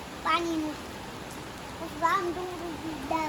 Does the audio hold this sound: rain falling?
yes